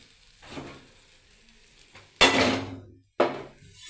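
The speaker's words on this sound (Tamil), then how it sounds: "ரவை நல்லா செவக்கிற அளவுக்கு நல்லா வறுத்தெடுக்கணும்" Semolina (rava) toasting in ghee for kesari, heard as soft scraping early on, then two loud bursts of sizzling and stirring that rise sharply and fade, close to the pan.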